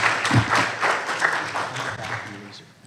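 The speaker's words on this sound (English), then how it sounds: "let us render a round of applause to Dr." Applause from a symposium audience greeting the closing keynote speaker, a dense, continuous wash of clapping at moderate volume that gradually thins out toward the end.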